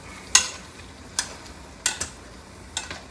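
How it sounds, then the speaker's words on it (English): A potato masher pressing soft tomatoes in a pan, heard as a few separate wet squishes and taps spaced irregularly, fairly close and with no talk. "this is a potato masher. I mash those tomatoes in there"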